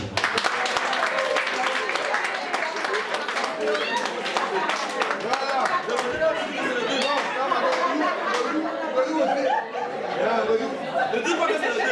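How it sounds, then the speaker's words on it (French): A crowd at a Labour Day workplace celebration applauds itself, scattered clapping under lively chatter and bursts of laughter that carry on across the whole stretch. "Applaudissez-vous."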